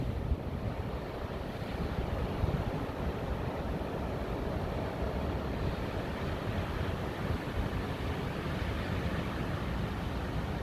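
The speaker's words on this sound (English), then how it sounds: "I'm trying to catch a gust." Wind from a storm gusts outdoors in a continuous rushing roar, heavy in the low end, with constant buffeting against the microphone and nobody speaking.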